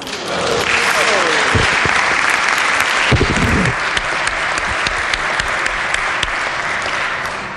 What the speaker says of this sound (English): So I feel like that deserves a round of applause.